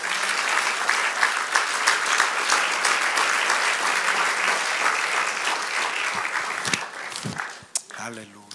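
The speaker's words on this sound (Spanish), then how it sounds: "Podemos darle un aplauso al Señor" A church congregation gives sustained applause to the Lord during a sermon, steady dense clapping that fades after about seven seconds as a voice begins speaking.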